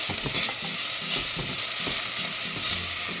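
Chopped onion frying in a hot pan for crab soup, with a loud continuous sizzle and busy stirring and scraping layered on top.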